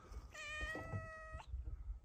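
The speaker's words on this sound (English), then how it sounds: "What are you doing, Danger Cat?" A cat lets out a single drawn-out meow, faint and fairly close, over quiet low rustling background noise.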